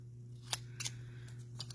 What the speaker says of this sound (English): I took my scissors, cut this off